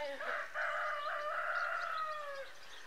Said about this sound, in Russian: О, петухи зато поют.